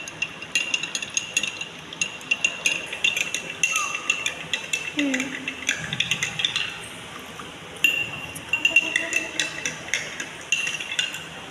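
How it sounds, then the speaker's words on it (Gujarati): A metal spoon stirs salt into a glass of water, clinking repeatedly against the glass in quick irregular taps, close and crisp, with brief pauses between stirring bursts. "હવે બીજા ગ્લાસમાં આપણે ઉમેરીશું મીઠું અને મીઠાને આપણે પાંચ મિનિટ હલાવીશું"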